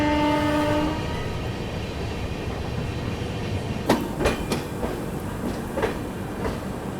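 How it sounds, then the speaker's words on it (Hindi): The Howrah Rajdhani Express, New Delhi to Howrah, pulls into Asansol Junction: a loud horn blast opens, then steady rumbling with sharp wheel clanks and clicks over rail joints as the train rolls in. "अपनी हावड़ा राजधानी एक्सप्रेस पहुंच रही है आसनसोल जंक्शन"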